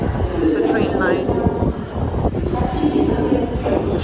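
A steady rumble and rattle of a double-decker train moving through a station in Paris, with faint squealing tones and voices in the background.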